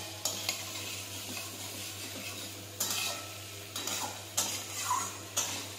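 Chopped onions fry in a pan with a steady low sizzle, broken by repeated spoon scrapes and clinks against the metal as they are stirred, several sharp stirring strokes in an uneven rhythm.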